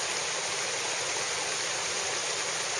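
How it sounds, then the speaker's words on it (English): Waterfall seen in the distance on a hiking trail in Japan, heard as a steady, dense rush of falling water that stays even and unbroken throughout, with no voices over it. "There's a waterfall up there."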